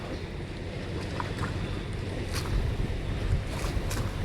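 Large boats on the Chao Phraya River in Bangkok, a steady low rumble of engines and churning water under blustery wind noise on the microphone.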